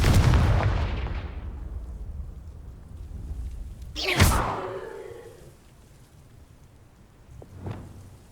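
Confringo blasting spell explosions in the Hogwarts Legacy video game: a loud blast that rumbles away, then a sharp cracking boom a few seconds later, followed by a fainter burst near the end.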